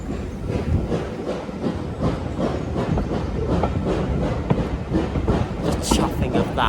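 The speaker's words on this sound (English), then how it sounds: "The chuffing of that is insane." Steam locomotive on the West Somerset Railway heading toward Minehead, its steady chuffing and rail clatter heard from on board, loud and continuous, with people talking over it.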